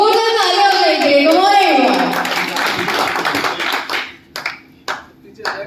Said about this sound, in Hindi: तो एक जोरदार तालियां हो जाएंगे।